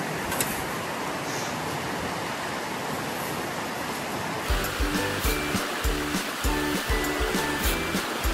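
A river with clear water and a sandy bank rushes steadily and fairly loud. Midway a rhythmic, pulsing mechanical sound joins the continuous flow, and no one talks.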